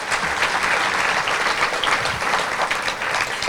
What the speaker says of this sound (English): Let's give one more round of applause for everyone who came today.